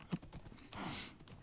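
Quick clip-clop of horse hooves in the Minecraft video game: a few light, close steps with a short burst of movement noise partway through, and no speech over it.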